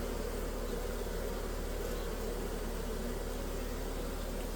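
Honeybees buzz steadily and densely inside a small mini mating nuc, a constant close hum with no pauses.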